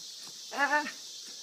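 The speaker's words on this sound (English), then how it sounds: "It's my kitten in a box, yeah. Kitten in a box." A kitten in a box lets out a single short, rising-and-falling meow, close and clear over a quiet hiss.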